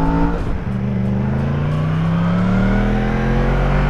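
A 2016 Yamaha MT-10 naked motorcycle revs hard and accelerates through successive gear changes, its engine note dipping at each shift and then climbing steadily, loud and close with no talking.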